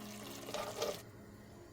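Water pours over potatoes in a cooking pot in a short, soft splashing burst that stops abruptly, faint and close in a quiet kitchen.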